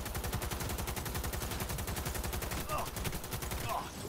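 Sustained rapid gunfire in the video game Cyberpunk 2077, an evenly paced machine-gun rattle of many shots over four seconds, steady and fairly quiet, with brief voice sounds near the end.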